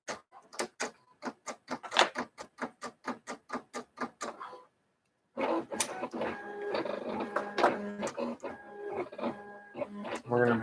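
A sticker cutting machine makes a rapid run of sharp, evenly spaced clicks, pauses in silence, then returns with denser whirring and clicking as it cuts, close and fairly loud.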